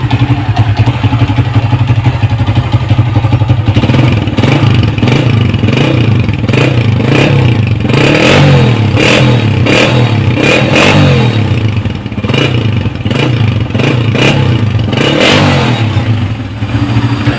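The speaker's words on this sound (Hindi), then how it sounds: "अब इसी तरीके से जो है वो सिलेंसर का साउंड भी चेक करेंगे।" A Honda CG 125 motorcycle idling loudly up close after a cam gear change, blipped and revved repeatedly with a rough, clattering exhaust note throughout.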